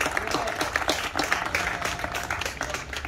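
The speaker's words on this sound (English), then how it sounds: "How about we give Chaplain Springer a round of applause, y'all." A crowd claps at an outdoor Memorial Day program in Berea, Ohio, producing a short burst of lively applause with scattered voices and cheers mixed in.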